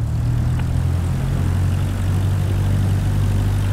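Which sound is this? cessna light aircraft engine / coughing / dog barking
cessna light aircraft engine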